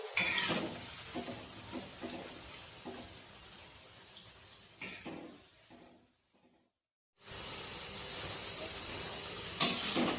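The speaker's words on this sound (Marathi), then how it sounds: "सुरुवातीला फास्ट गॅसवर व नंतर कमी गॅसवर आपण भजी तळून घेऊया।" Cabbage bhaji fritters fry in hot oil over a high then low gas flame, a close, steady sizzle with stirring knocks that cuts to silence for a moment before the frying resumes.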